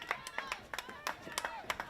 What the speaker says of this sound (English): the applause from the hardy Milford fans who have shown up here despite the light rain and cooler temperatures